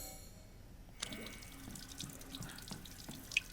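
Water from a tap in the game Resident Evil Village switches on after a second of near silence and then runs and splashes steadily into a basin, fairly quiet, with no speech.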